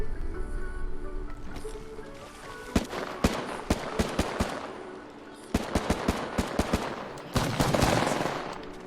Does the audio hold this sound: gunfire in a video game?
yes